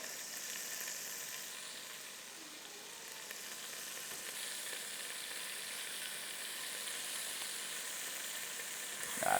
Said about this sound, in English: let everything start searing down there